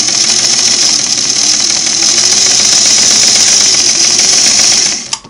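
A Singer Model 513 sewing machine motor runs with a loud, steady whirring hum for about five seconds, loose and wobbling, then cuts off abruptly with a small clunk.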